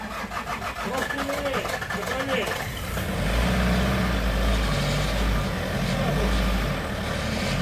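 A repaired car engine, rebuilt after spun bearings, runs rough and smoky with a loud, steady low chugging rumble that swells midway, while people talk over it.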